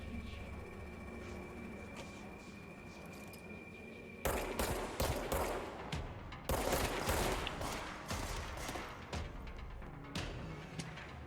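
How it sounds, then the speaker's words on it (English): Machine gun fire in the video game Control: after a quieter stretch, dense rapid bursts erupt and continue in loud, repeated volleys with short gaps between them. "Machine gun."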